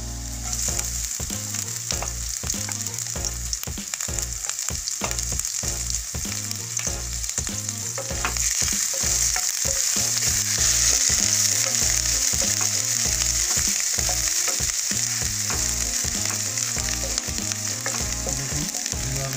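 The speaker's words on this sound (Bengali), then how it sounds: "তেলটা গরম হওয়ার পরে রসুন দিয়ে দেবো, আদাটা কেটেছিলাম এটাও দিয়ে দেবো" Garlic and ginger frying in a few spoons of hot white oil for a pasta dish, a steady loud sizzle with regular stirring scrapes throughout, growing a little brighter midway, no talking.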